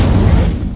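Incendio fire spell cast in Hogwarts Legacy: a loud, dense booming burst with heavy low rumble that fades gradually over under a second.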